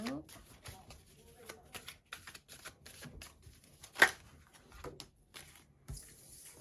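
Tarot cards being shuffled, soft riffling and tapping in quick irregular bursts, faint and close, with one sharper slap near the middle.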